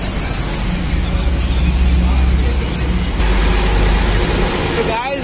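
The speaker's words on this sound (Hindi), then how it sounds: "क्योंकि इसमें गाड़ियों की आवाज ज्यादा आ रही है।" Road traffic of cars and buses under a bridge, a dense, steady low roar of engines and tyres reverberating off the concrete, with a brief squeal near the end.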